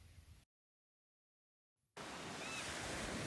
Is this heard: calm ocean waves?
yes